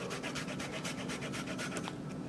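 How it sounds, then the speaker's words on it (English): Fresh ginger is rubbed on a small kitchen grater, producing a fast, even series of close rasping strokes with no talking. "kitchen grater, get this all nice and grated up real fine"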